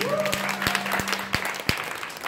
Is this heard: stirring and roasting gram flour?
no